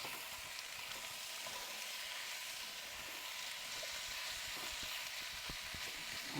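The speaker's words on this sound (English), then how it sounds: "here goes our kilo of chuck steak, all diced up nicely. Give that a little bit of a stir." A kilo of diced chuck steak fries in a pan at a riverside campsite and is stirred, giving a steady, quiet sizzle and hiss with faint scraping, and no talking.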